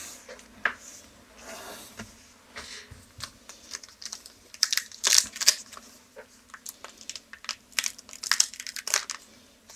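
Lord of the Rings trading card booster packs are torn open and unwrapped up close, giving a series of crinkly foil rustles and sharp crackling tears that grow busier and louder toward the end, with no talking.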